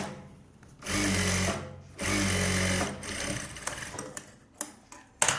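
A sewing machine runs a rough centre seam on a blouse in two short, close bursts of fast, steady whirring. Soft clicks and fabric handling follow.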